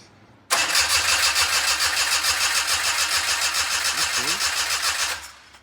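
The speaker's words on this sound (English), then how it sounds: "But that starter sounds healthy, which is great." Starter motor of a Daihatsu Midget cranking steadily and loudly for about five seconds with a fast, even churning rhythm, then cutting off without the engine catching.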